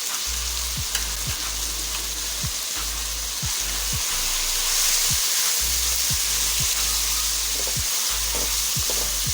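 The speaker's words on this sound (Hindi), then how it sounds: "मसाले को अच्छी तरह भूनेंगे।" Spices (ground coriander, red chilli, crushed chilli and turmeric) frying in a pan for ridge gourd (turai) curry, giving a steady close sizzle broken by scraping stirs of a spoon against the pan.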